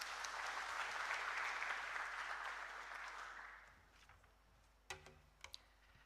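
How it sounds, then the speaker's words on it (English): Applause from an audience at a job fair, steady and full for about four seconds before fading out, followed by a few scattered claps and light knocks in a quiet room. "A warm round of applause"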